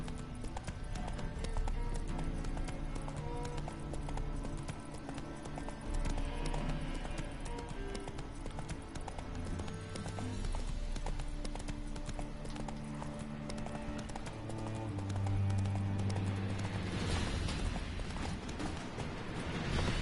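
Rapid clip-clop of a galloping horse's hooves in The Witcher 3, steady and continuous over a game soundtrack and ambience, with a brief surge of rushing motion near the end.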